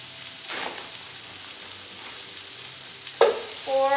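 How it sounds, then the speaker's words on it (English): Three frozen burgers sizzling in a frying pan, a steady soft hiss with a brief clatter near the end, close by and moderately quiet. "it's really sizzling."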